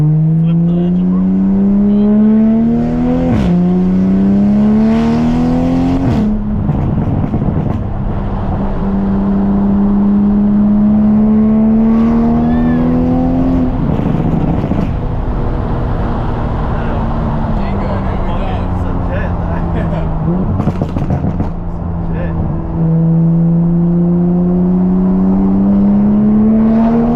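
A Toyota Supra engine drones loudly and close, its pitch climbing and dropping through several revs and shifts, while people talk over it.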